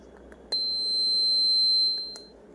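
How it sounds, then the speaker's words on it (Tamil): A door-opening alarm buzzer sounds a sustained high electronic tone for about two seconds, loud and steady over a faint background hum, followed by a brief click. "இப்போது நம்ம டோர் ஓப்பன் பண்ணோன்னா அலாரம் வரும்."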